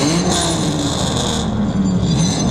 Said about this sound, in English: Cole, now, shut off your engine.